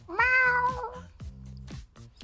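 A person imitates a cat's meow once, a drawn-out, nasal mewing cry that rises and trails off, followed by quieter low murmuring.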